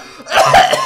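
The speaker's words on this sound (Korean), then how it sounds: "콜록." A single loud, close cough from a man, short and harsh, in a Minecraft family role-play.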